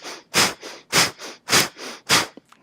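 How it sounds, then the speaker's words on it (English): Kapalabhati breathing: four sharp, forceful exhales snapped through the nose at an even, brisk pace, each followed by a softer passive inhale, close and clear with no talking. "We're going to pump out a Kapalabhati breath."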